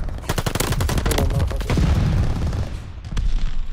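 Thompson submachine gun, also called the M1928, firing in Call of Duty: Vanguard during a free-for-all match on the Das Haus map, with rapid close bursts of automatic shots filling the clip, a short lull, then more fire.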